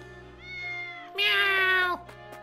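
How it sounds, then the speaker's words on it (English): A cat meows twice in a video game, Triangle Strategy: a soft, drawn-out meow followed by a louder, higher one, close and clear with no talk. "Meow."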